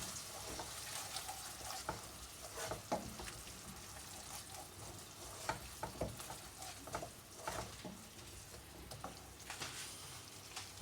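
Spices for aloo gobi fry in oil with a steady close sizzle, broken by scraping, clattering stirring strokes through the pan.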